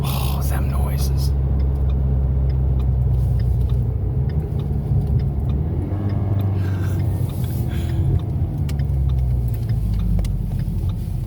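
A 500 hp Ford Mustang EcoBoost accelerates with a loud, continuous low engine rumble heard from inside the car, rising and holding strong, while occupants talk over it.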